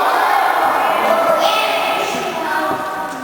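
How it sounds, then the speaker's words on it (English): Crowd at a 2015 kids' fundraiser show applauding and cheering for a child singer, a dense, steady wash of clapping and voices that fills the whole moment and eases off slightly toward the end. "Let's give him a round of applause."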